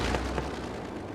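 A burnt-down building is demolished in Cities: Skylines on Xbox One, producing a short, loud rumbling crash that bursts out at the start and quickly settles into a dull roar, with no voices.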